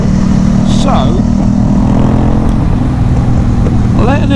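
A KTM Duke 790 motorcycle with a decat straight-through exhaust runs loud and close, a steady throaty drone throughout with brief rises in pitch, while a voice speaks intermittently over it.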